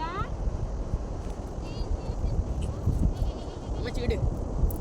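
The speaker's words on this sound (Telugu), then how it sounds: "మేక వచ్చిందా?" Goats bleating repeatedly near a village beach, wavering cries over steady wind and surf noise, with a person talking nearby.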